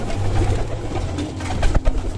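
A racing pigeon, a blue bar bird, coos in low repeated throaty pulses close by, with soft rustling and a sharp knock near the end.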